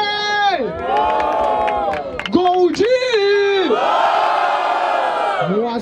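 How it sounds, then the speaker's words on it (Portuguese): Crowd cheering and shouting at a Brazilian freestyle rap battle in Barueri, SP, with loud sustained yells and whoops over a host's voice, swelling in bursts throughout. "Barulho para cima do Krauk"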